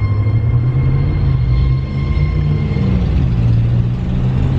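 A pickup truck driving with a rough, steady low rumble and drone, loud and continuous with no talking.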